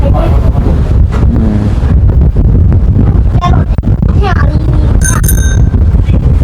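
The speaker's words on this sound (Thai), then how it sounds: "เสียงลมครับ" Outdoor wind buffets the microphone at a home construction site prepared for a concrete floor pour, a loud constant rumble beneath scattered voices and a few bright bell-like chimes.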